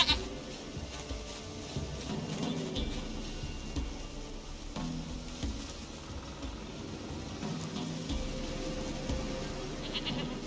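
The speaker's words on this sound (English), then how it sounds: "Goat of mine, dearest, sweetest goat." A goat bleats repeatedly at moderate loudness in The Witcher 3: Wild Hunt, over a continuous outdoor game ambience.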